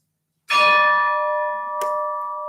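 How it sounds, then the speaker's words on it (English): A single strike rings out on a replica of the original Jamestown bell, a loud sudden clang whose bright tones sustain and slowly decay, with a second lighter touch adding a brief metallic accent before the ring fades. "That is an exact replica of the original Jamestown bell that rang out across the site 400 years ago."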